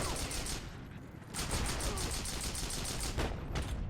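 Rapid, continuous weapon fire in the online shooter Heroes & Generals, loud bursts of shots stacked densely for the whole span, with a brief dip before the firing resumes at full intensity.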